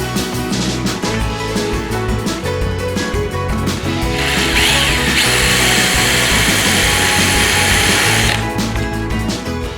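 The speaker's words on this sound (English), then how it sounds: "Now I drill some pilot holes to fasten the legs to the frame." A power drill bores pilot holes into a wooden table frame while a side table's legs are being fastened, with a loud continuous whine in the middle and surrounding workshop clatter and rattling before and after.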